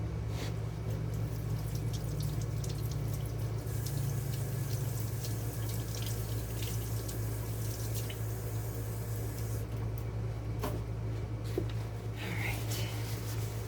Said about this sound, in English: now I'm going to rinse my gloves off